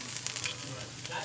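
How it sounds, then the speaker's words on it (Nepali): Garlic sizzles steadily in hot oil with cumin, a continuous close crackle and hiss with small spattering pops throughout, no voices. "जिरा राखिसकेपछि मैले अब प्याज सबभन्दा पहिले म लसुन हाल्छु।"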